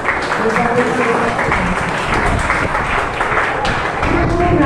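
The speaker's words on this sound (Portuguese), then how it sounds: "Palmas para a classe José." A church Sunday school class applauds at a Maceió Assembly of God congregation, a dense wash of clapping mixed with crowd voices and chatter running continuously.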